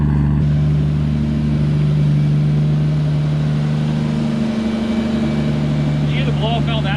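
A Toyota 1JZ engine swapped into a BMW E36 idles and rumbles loudly up close with a deep, steady drone, while voices talk over it near the end.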